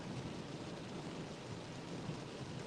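Heavy rain during a storm chase in Kansas, a dense, even hiss of downpour drumming on a vehicle, steady and unbroken throughout with no voices.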